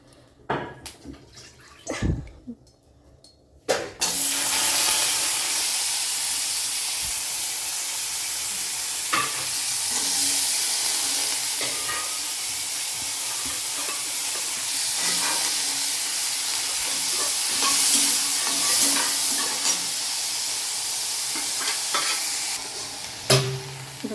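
Loud, steady sizzling and hissing of turkey berries frying in a hot pan over full flame, with occasional stirring scrapes, after a few seconds of quieter clatter.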